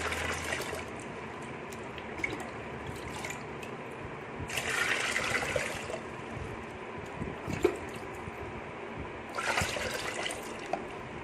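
Water poured into a container in short bursts, with splashy pouring coming in a few separate spells over a low, steady background.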